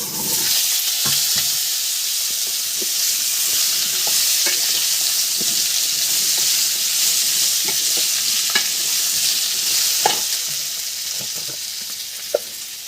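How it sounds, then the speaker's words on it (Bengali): Potatoes hit hot oil spiced with cumin, cinnamon and whole garam masala for a Bengali cauliflower-potato curry, giving a steady loud sizzle broken by scattered spatula clicks and scrapes. "এবার আলুটা ছেড়ে দিলাম।"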